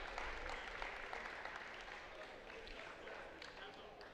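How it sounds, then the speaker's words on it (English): A crowd at a college basketball game between Rhode Island College and UMass Boston applauds as an injured player gets up, distant steady clapping under an announcer's voice. "He gets up to an applause."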